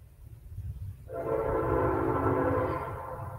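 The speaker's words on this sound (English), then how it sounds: "Train." Train horn sounding as a train passes nearby, a sustained loud blast starting about a second in over steady low rumbling rail noise, holding for roughly two seconds before easing off.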